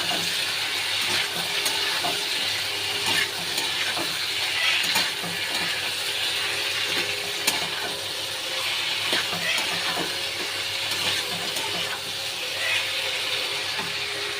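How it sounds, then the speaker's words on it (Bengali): Onion paste and ginger paste sizzle and fry in a pan as a spoon stirs them, a steady close crackling hiss with light scraping throughout and no talking. "একটু নেড়ে নেব।"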